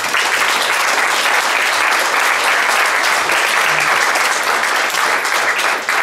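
A conference audience at a talk on a feminist budget for the Quebec government gives the organizers a loud, dense burst of applause that holds steady for the whole stretch with no pauses.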